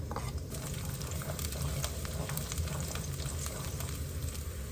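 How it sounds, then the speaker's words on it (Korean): Garlic stir-fries in a hot pan, a steady close sizzle and crackle with occasional scraping from stirring, quiet overall and continuing without pause. "맛을 조금 더 내려고 저는 마늘을 먼저 좀 볶아줄게요."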